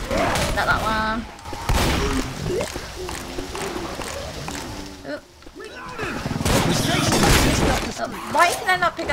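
Bursts of gunfire crack repeatedly while players shoot zombies in Left 4 Dead, mixed with impacts, shattering and zombie groans, with someone talking over the action.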